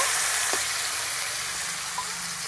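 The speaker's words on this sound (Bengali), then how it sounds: "বাকি মাছগুলোও ভেজে নেব।" Koi fish frying in hot oil in a wok, a steady loud sizzle and crackle that holds evenly throughout with one brief spatter, no voices.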